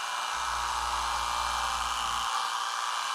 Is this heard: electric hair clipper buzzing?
yes